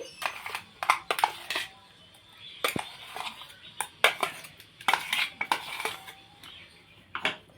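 Metal utensils clink and scrape against a pot and bowl as masoor lentil paste is transferred, a string of sharp, irregular taps and scrapes at close range with no talking.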